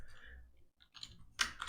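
A few quick clicking keystrokes on a computer keyboard, light and close, tapped in short uneven bursts with brief pauses between them.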